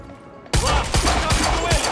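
Sudden loud, continuous gunfire from enemies in Quantum Break erupts after a brief quiet moment, dense rattling shots filling the rest of the clip.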